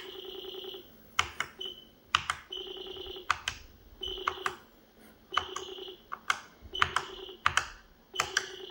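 Sharp clicks and a buzzing tone repeat in regular bursts as an Alcatel Telic Terminatel 254 Viewdata terminal's telephone pulse-dials, heard faintly with a steady rhythm in the background.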